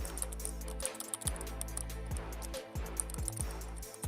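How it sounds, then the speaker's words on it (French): Arrow keys on a computer keyboard pressed repeatedly while editing a banner in Canva, light clicks in an uneven rhythm over a steady low hum, close and without talk. "Maintenant, j'utilise les touches directionnelles de mon clavier."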